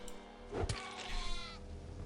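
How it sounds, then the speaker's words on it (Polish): A sheep in the Gothic 2 video game gives a single short bleat over quiet in-game ambience, fairly close and clear. "Mamy owce."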